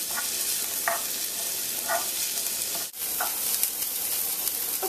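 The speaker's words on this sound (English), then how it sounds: "I'm going to let the onions cook for a couple minutes until they become translucent" Diced onion cooking in a hot pan, a continuous close hiss of sizzling with a few light scrapes of stirring breaking through now and then.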